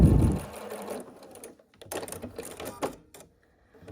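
A sewing machine stitches a diagonal seam across a quilt block, a short burst of rapid mechanical whirring that slows into intermittent stitches and stops.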